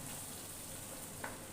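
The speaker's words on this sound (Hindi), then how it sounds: "जीरा हमें इसे 5 मिनट तक भूनना है" Cumin seeds frying in a pan, an even bright hiss of oil held steady throughout with one small clink near the end, close and without speech.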